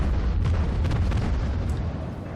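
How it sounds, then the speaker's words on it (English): Cruiser main guns firing AP rounds in the naval video game World of Warships, a dense booming salvo with a rolling low rumble that fades slowly, heard without talk. "Send 4 more shots in."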